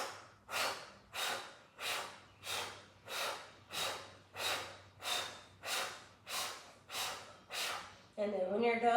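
Heavy, deliberate breaths during a qigong breathing exercise, about ten strong exhalations in a steady rhythm roughly every three quarters of a second, close to the microphone, ending in a longer rougher breath.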